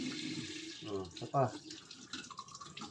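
Tap water runs steadily into a sink while a child's teeth are washed, a soft continuous splash under an adult voice speaking briefly and close.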